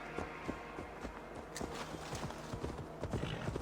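A horse gallops in Assassin's Creed Valhalla, its hoofbeats clopping in a quick, steady rhythm at moderate volume, close by with light background game ambience.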